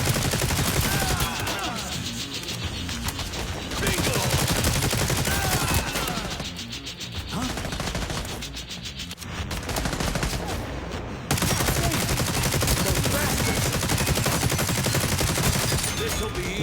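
Gunfire in The Division Resurgence video game, dense sustained bursts of shots and automatic fire filling the scene, loud and continuous with brief lulls, with no talk over it.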